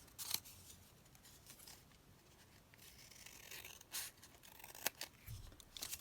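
A sheet of copy-paper-sized paper is ripped by hand during a paper-crafting workshop, giving a few short, crisp tearing bursts close by against a quiet background.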